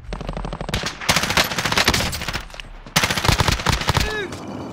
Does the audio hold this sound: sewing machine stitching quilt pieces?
no